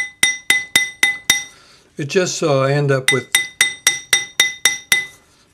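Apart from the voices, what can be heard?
Fretz silk hammer texturing a metal ring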